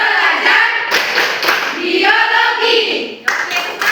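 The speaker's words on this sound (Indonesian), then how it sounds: "1, 2, 3, tepuk biologi." A classroom of students claps in rhythm while chanting together, crisp group claps landing between sung group voices close by.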